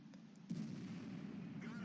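An IS-3 heavy tank fires its cannon in World of Tanks, a single sudden boom followed by a sustained low rumble, with no talk over it.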